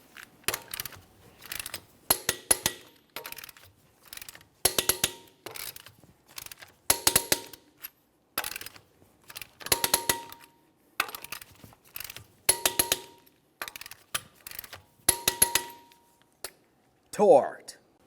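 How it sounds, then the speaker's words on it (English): A torque wrench tightens the rear wheel lug nuts of a 2017-2024 GMC Acadia to 140 foot-pounds, one after another in a crisscross order, giving a string of close, sharp ratcheting clicks and metallic clinks in evenly spaced bursts. "we'll torque these in a crisscross manner"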